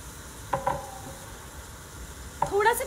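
Green peas and boiled potatoes for pav bhaji are stirred in a pan, giving two short bursts of scraping and clinking over a faint, steady sizzle.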